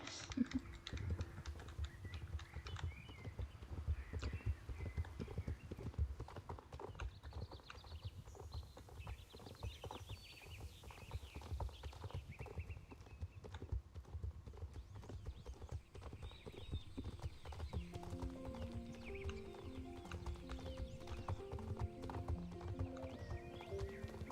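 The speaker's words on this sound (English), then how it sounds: "Gallop like the wind, straight to my house." Horse hooves clip-clop rapidly in a steady galloping rhythm throughout, loud and close, over game background music in the online horse-riding game Star Stable Online, with an occasional whinny.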